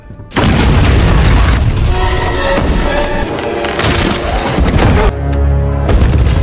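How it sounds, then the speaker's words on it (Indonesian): A loud, sustained booming blast of a bomb exploding in an Indiana Jones film fills the clip, with a heavy rumbling roar that stays dense and powerful for several seconds before cutting off. "tiba-tiba bom itu pun meledak"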